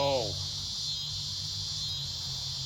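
A cicada in a tree outdoors droning with a continuous high, steady buzz throughout, moderately loud, with a brief low voice-like sound at the very start.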